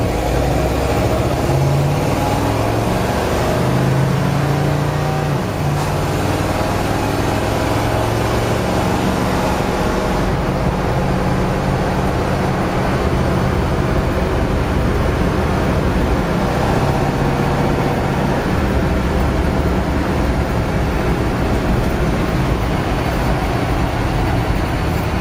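A 1950 Oldsmobile station wagon driving on the road, its engine a constant loud low drone with steady road and wind noise throughout, heard from inside the car.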